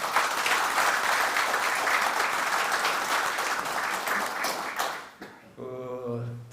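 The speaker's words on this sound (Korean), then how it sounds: "큰 박수 부탁드립니다" An audience at a defense industry breakfast forum claps in a steady, full round of applause that tapers off near the end, where a voice starts speaking.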